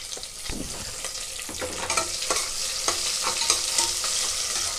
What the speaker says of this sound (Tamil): வெங்காயம் நல்லா ப்ரௌனாக வதங்கட்டும்.